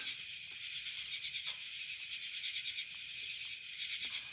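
Crickets or cicadas chirp at night outdoors, making a dense, steady high-pitched drone that fills the whole stretch with a faint pulsing texture, heard alone without talk.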